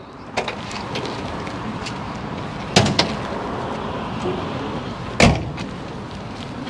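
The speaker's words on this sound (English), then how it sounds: "You mind opening up the bonnet?" Hood of a 1977 Toyota Corolla with a 2.0L 3TC engine being opened, heard as a few sharp metallic clunks and latch clicks over a steady outdoor background, with one louder thump near the end.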